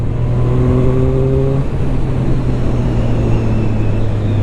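Zontes 703 RR motorcycle engine pulling hard on a road ride, a loud, close, steady harmonic drone whose pitch shifts partway through, with continuous wind and road roar and no voices.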